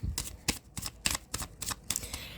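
Tarot cards being shuffled by hand, a quick run of about eight crisp riffling snaps in an even rhythm, close and fairly quiet with no speech.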